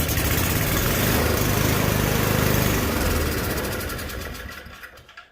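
A Toro 421 engine with a carburetor needing cleaning runs briefly, a loud steady mechanical drone for a few seconds that then winds down and dies away, with no talking.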